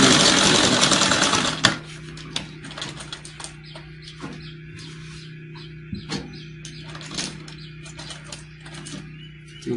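A sewing machine stitches blouse sleeve pieces, beginning with a loud rush, then settling into a steady mechanical hum with light, regular ticking.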